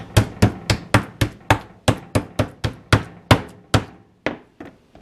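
Chicken is pounded flat to tenderise it, with about a dozen sharp, close thuds in a steady rhythm that slows and fades toward the end.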